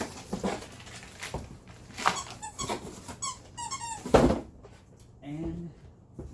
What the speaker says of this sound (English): Sorry about the dog squeaking on his toy.